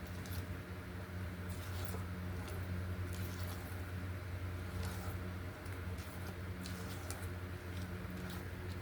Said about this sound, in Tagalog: Tapos, ihalo ulit natin.